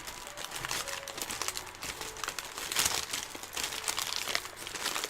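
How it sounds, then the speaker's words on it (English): Close, continuous crinkling and crumpling of plastic or paper during 3D modelling practice, irregular rustling bursts lasting throughout at a moderate level with no speech. "Sorry for the crinkling."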